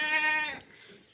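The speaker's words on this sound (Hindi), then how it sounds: "मुनासिब कीमत में कुर्बानी का बकरा है, बहुत ही बेहतरीन और अच्छा बकरा है" A healthy, two-toothed castrated sacrificial goat for Qurbani gives a single short nasal bleat close by, fading quickly into quiet.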